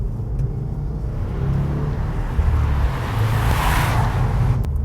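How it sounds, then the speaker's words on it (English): A 2016 Subaru WRX with quad-tip exhaust drives along, its engine a steady low rumble with road noise, rising slightly as it accelerates, heard from inside the car without talk. "I feel like the exhaust should be a little bit louder."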